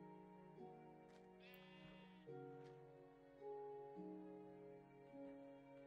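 A sheep in the Minecraft video game bleats repeatedly, a clear wavering call heard several times over steady game background music, with no talking.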